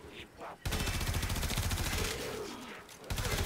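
Rapid, continuous pistol fire from Prisma Twin Gremlins in Warframe, a dense rattle of closely spaced shots lasting a few seconds after a brief quiet start.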